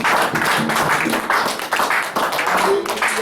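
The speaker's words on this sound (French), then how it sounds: "Acclamation pour le Seigneur" A church congregation claps loudly and steadily in praise, with voices calling out over the applause.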